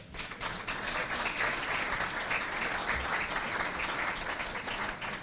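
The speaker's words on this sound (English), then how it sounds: "So great round of applause for Eversource" An audience at a 2025 State of the City event claps for a sponsor, a dense, even round of applause held for several seconds without a break.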